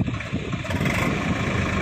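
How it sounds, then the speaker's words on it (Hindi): A Swaraj 744 XT tractor engine started and running outdoors at a loading site: a loud, rough, low diesel rumble that holds steady through the short moment, with no talking. "ये ड्राइवर, ये स्टार्ट कर लिए ट्रैक्टर को"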